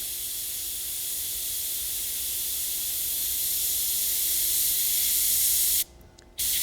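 A hobby airbrush sprays paint in a long, steady, close hiss that continues almost unbroken, then cuts out briefly and resumes at the end.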